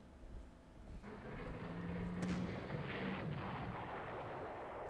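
Artillery fire in the wargame Panzer Corps, heard as a deep, rumbling boom that swells and lingers as a low, sustained roar, with a softer earlier thud and no talk.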